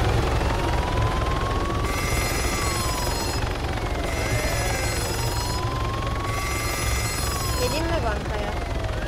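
Helicopter in the Arma 3 video game, a steady rotor drone under repeated electronic ringing tones, with voices talking over it.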